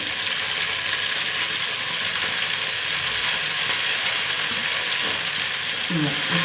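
Veg bagara rice fries with mint and coriander in a hot pot, a loud, continuous sizzle with light stirring scrapes near the end.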